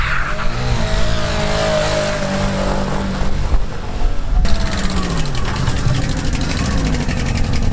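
Car engine damaged by shifting into first gear at 90 km/h, now running on three cylinders: a loud, rough, uneven drone with a rising whine early on and a harsher clattering tone after the midpoint.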